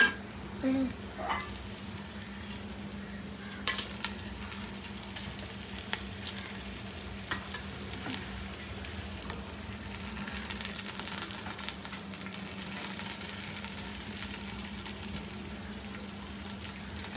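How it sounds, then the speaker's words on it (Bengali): Onions frying in hot oil, a steady broadband sizzle running throughout with occasional sharper crackles and stirring clicks, with a constant low hum underneath. "আবু তেল তো গরম হয়ে গেছে, পেঁয়াজ দেবো।"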